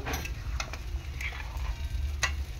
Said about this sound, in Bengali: এখন জাস্ট ভালো করে ফুটিয়ে নেব।